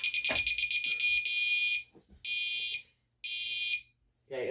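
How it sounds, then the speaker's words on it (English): A Gentex Commander 3 fire alarm on a demonstration alarm board sounds after a pull station is pulled, giving loud, shrill electronic horn blasts: a rapid pulsing burst, then two longer separate blasts with gaps, close by. "So lift the cover and pull the fire alarm."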